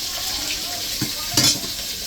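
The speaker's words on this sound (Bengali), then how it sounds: "এদিকে এক পাশে মাছ ভাজতে আছে" Fish fries in a pan in a home kitchen, a soft, steady sizzle with a couple of brief clinks and scrapes of utensils against cookware, heard up close without talk.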